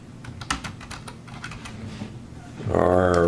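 Quick keystrokes on a computer keyboard while working in Excel, a close run of light taps that ends as a voice starts speaking over them.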